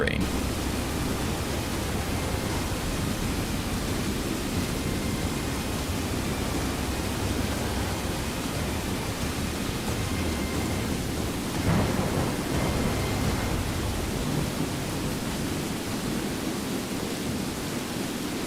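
Steady rainfall and a thunderstorm in the video game Skyrim, a dense continuous hiss of rain with a low rumble of thunder swelling around the middle, loud and unbroken.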